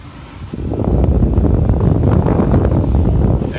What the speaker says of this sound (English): switching this AC controller to the maximum to see if the air blower is actually blowing